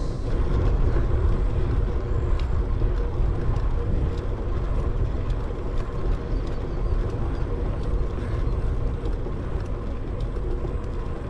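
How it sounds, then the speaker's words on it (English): Road traffic from passing cars beside a trail near a highway, a steady broadband roar of engines and tires, continuous and fairly loud with no talking. "noise fatigue from the cars."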